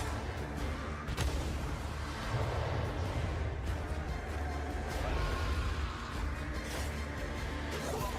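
Cannon or laser weapon blasts in a Warhammer showcase trailer, loud bursts and whooshes over a dense, busy soundtrack with people talking over it.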